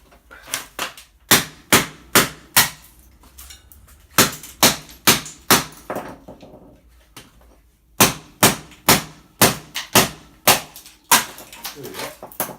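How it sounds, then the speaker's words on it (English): A hammer strikes a scrap electric motor again and again in sharp metallic bangs, about a dozen in uneven bursts with short pauses between groups, loud and close. "I'll give it a hit with a hammer and see."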